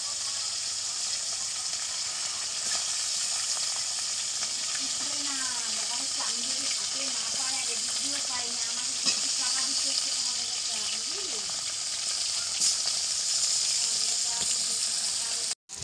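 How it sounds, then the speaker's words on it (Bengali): Tilapia pieces fry in oil in a wok, a steady loud sizzle and hiss running through the whole stretch with faint stirring, and a voice talking quietly underneath. "তেলাপিয়া মাছগুলো ভেজে নিচ্ছি কড়ার মধ্যে দিয়ে দিচ্ছি মাছগুলো"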